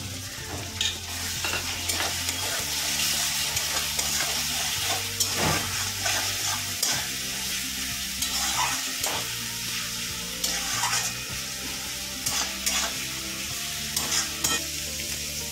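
Garlic and ginger fry in hot oil for mutton kosa, a constant sizzle broken by repeated scraping strokes of a spatula stirring the pan up close.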